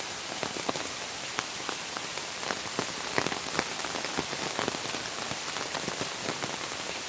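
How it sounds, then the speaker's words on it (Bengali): Rain falls on tree leaves in a village, a continuous close patter with many distinct drips and taps scattered irregularly throughout, steady and fairly loud with no voices. "বৃষ্টির পানি"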